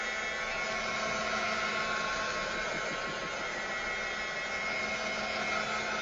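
A hair dryer blows steadily on wet paint medium spread on a canvas, giving a continuous close whooshing roar with a faint hum that holds level for the whole stretch.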